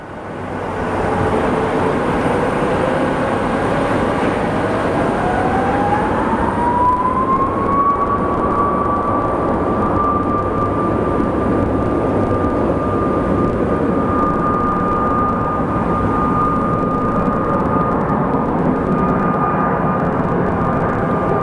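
An airliner takes off from runway 25 right at Phoenix Sky Harbor with a loud, sustained jet engine roar. A turbine whine rises steadily in pitch as the plane spools up, then holds at a high steady tone.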